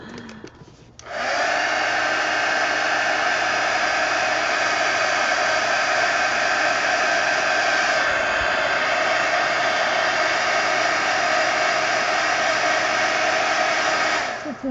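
A hair dryer blows over a painted page in a mini magazine art journal, a loud steady close whooshing roar that switches on early and runs unbroken until it cuts off near the end, no talk.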